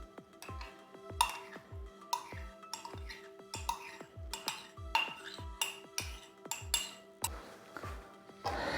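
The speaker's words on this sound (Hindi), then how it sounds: "सबसे पहले हम 1 कप है ना दही डालेंगे इसमें।" A cup of yogurt spooned into chicken karahi in a pot, with a steady series of metallic spoon clinks and scrapes against the vessel in a regular rhythm, close and moderately loud with no talking.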